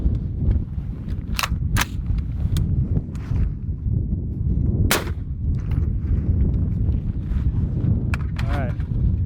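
Outdoors, a 14.5 inch .223 rifle fitted with a Dead Air Sandman S suppressor fires sharp shots over steady wind noise. Several distinct reports stand out, and people talk between them.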